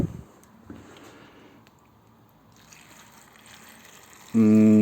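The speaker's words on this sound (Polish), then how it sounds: "zalewamy po prostu to wodą, tak żeby zakryć to mniej więcej." Water is poured into a pot of goulash on a stove, a soft trickling splash that runs faintly for several seconds before a sudden loud, steady tonal hum kicks in near the end.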